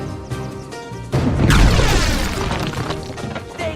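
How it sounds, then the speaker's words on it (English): A heavy cannon blast booms in the Skylanders: Spyro's Adventure video game as an old cannon blows through a wall, a loud crashing impact with rumbling debris that decays over several seconds, over game music. "Taking down that wall seems like it might help. Maybe that old cannon will work."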